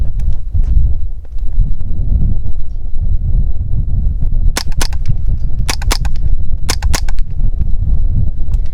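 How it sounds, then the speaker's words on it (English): A Smith & Wesson M&P 15-22 rifle fired outdoors through a heavy all-metal DBC 223 suppressor, about six sharp muted cracks in quick pairs over a loud steady wind rumble. "Now this is a DBC 223 suppressor, all metal, very heavy"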